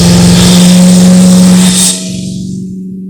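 A vintage Bugatti racing engine revs loud and close with a strong steady drone, then the revs drop and it falls back to a quieter idle.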